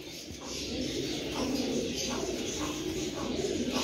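Golden pigeon pairs, including a French hen, cooing in soft repeated low rolling phrases close by, with a few faint chirps among them.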